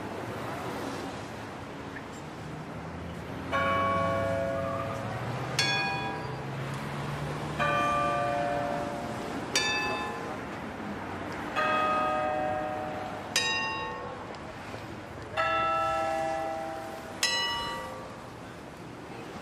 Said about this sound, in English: Big Ben is ringing.